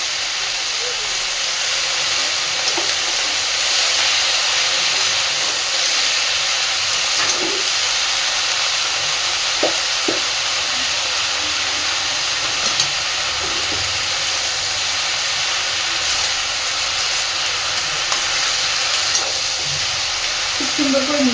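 Red spinach and ordinary spinach stirred together as they fry in a pan, giving a steady hiss of steam and sizzle throughout with occasional soft scrapes of stirring.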